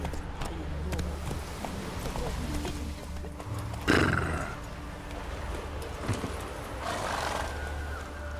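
Roach, Geralt's horse in The Witcher 3 video game, gallops with steady hoofbeats under a game soundtrack, gives a loud whinny midway, and is accompanied by spoken dialogue.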